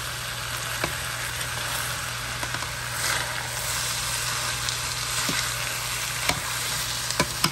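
Butter and shredded potatoes sizzle steadily in a pan, a constant close frying hiss with occasional faint scrapes and taps of stirring.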